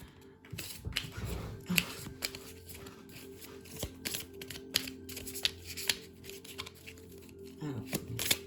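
Chakra oracle cards shuffled by hand for a long spell, a crisp run of quick riffling snaps and flutters with brief pauses, close to the microphone, while someone talks softly at times.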